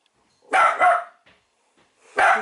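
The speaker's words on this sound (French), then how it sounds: "c'est ma chienne qui aboie" A female dog barks nearby, giving a quick double bark and then, after a short pause, a third loud bark, with silence between the barks and no talking.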